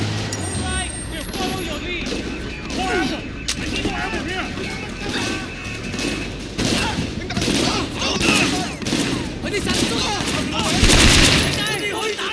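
Dense, loud gunfire keeps going throughout a gunfight that breaks out from an armed robbery in the video game Sleeping Dogs, with rapid overlapping shots and voices shouting over the shooting.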